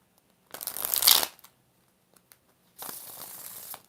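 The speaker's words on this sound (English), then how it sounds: "5 shuffles for Bino." A tarot card deck being shuffled by hand: two separate bursts of crisp riffling and card slapping, close and fairly loud, with a quiet gap between them and a couple of soft taps.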